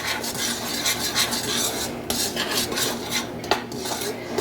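Ingredients mixed in a bowl with a utensil for gluten-free bagels, scraping and clinking strokes against the bowl, close and continuous with a few sharper knocks.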